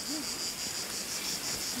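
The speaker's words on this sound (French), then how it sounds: "Il y a les abeilles qui sont là." Bees gathering to drink at a small spring or stagnant pool outdoors, a faint continuous high buzz with a soft wavering hum beneath, no speech over it.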